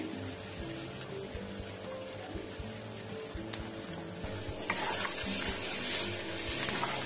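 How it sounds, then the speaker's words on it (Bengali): Rui fish filling with grated potato sizzles and fries in a pan while being stirred and scraped, a steady close crackle that grows slightly louder and busier toward the end. "মাছটা আমি খুব ভালো করে কষে নেব।"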